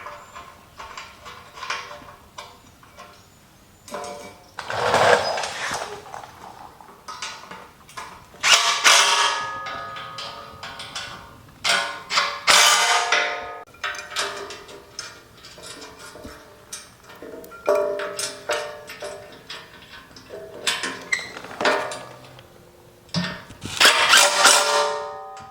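Screws being driven to fasten brackets onto side steps for a Jeep Gladiator, loud close bursts of ratcheting and mechanical clicking that come in uneven spurts with brief pauses, no talking.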